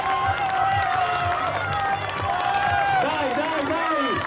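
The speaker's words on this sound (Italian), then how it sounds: "100 metri di applausi per Marta Zenoni" Stadium crowd at an evening athletics meeting applauding a middle-distance runner, Marta Zenoni, chasing a record: steady rhythmic clapping and cheering from a large crowd, with an excited announcer talking loudly over it throughout.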